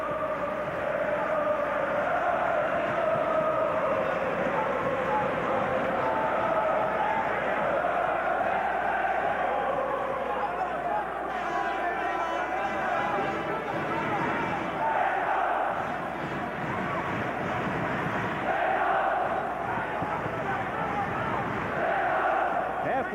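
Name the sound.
boxing arena crowd cheering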